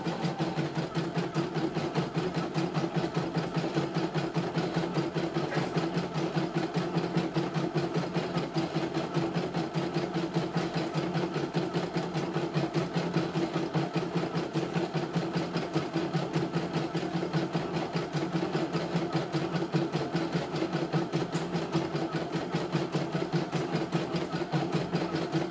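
CNY E900 embroidery machine running with a steady, rapid mechanical stitching rhythm and a continuous motor hum, unchanging and fairly close throughout with no voices.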